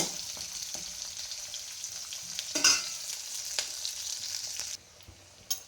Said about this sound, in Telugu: ఈ ఉల్లిపాయ బాగా మగ్గాలండి ఎర్రగా ఆగాలి ఉల్లిపాయ